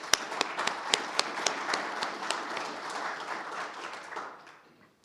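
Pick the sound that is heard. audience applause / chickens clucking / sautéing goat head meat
audience applause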